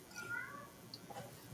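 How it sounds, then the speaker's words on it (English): An indoor cat gives a soft, drawn-out meow, fairly faint and close, over a low background hum with no talk. "Sounds like the cat's pretty bummed about that too."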